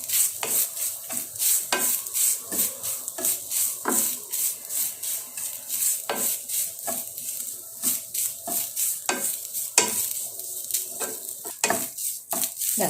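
Grated coconut frying lightly in a pan, with a soft sizzle under frequent sharp scrapes and taps of a spoon stirring it, close and rhythmic throughout.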